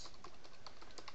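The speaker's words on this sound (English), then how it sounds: "I'm going to type in my work email address" Rapid keystrokes on a computer keyboard as an email address is typed, a quick irregular run of light clicks, close and fairly quiet, with no talking.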